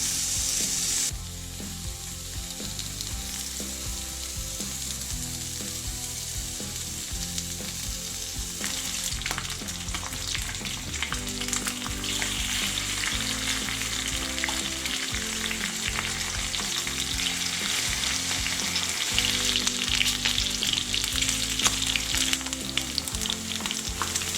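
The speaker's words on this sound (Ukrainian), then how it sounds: "Викладаю під черевок на сковорідку і обсмажую його з усіх боків." Steady sizzling and crackling of pork belly frying in a pan, loud and close, with occasional stirring scrapes and no talking.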